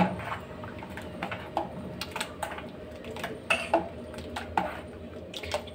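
Potato dosa mix with chilli flakes and cumin stirred in a bowl: light irregular clinks and taps of utensil against the bowl, some sharper knocks, over a faint background hum.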